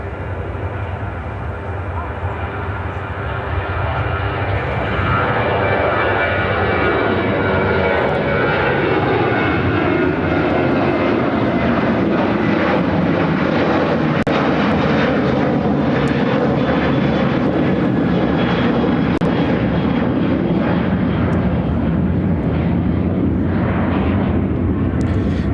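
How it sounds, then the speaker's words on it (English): A United Airlines Boeing 737-800 jet takes off from Chicago O'Hare, its engines roaring loud and close for the whole stretch, the pitch sweeping as it passes. Brief voices sound faintly beneath the engine noise. "This is United Airlines 342 taking off to Omaha on the 737-800"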